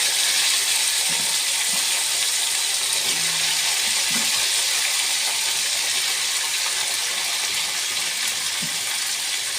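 Vegetables fry in hot oil with dried chilli and five-spice seasoning, giving a steady, dense sizzle that stays even and close throughout, with no talk.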